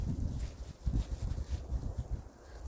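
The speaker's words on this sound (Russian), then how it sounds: "Ветер временами." Gusty wind buffeting outdoors at a riverside tent camp, a low rumbling rush that swells and eases in uneven puffs, fairly close and moderate in loudness.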